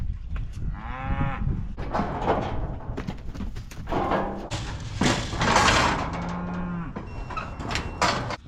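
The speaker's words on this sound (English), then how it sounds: "I've got several pretty hefty steers in this group." Cattle moo repeatedly during weaning of a group of hefty steers, with several loud, drawn-out calls overlapping near and at mid distance amid pen noise.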